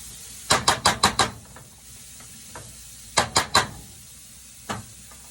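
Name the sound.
onions sweating in a pot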